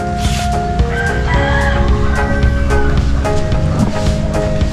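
Chickens cluck steadily while a rooster crows, close and loud, with a constant low background rumble.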